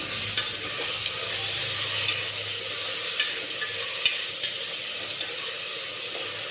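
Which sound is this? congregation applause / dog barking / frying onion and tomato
frying onion and tomato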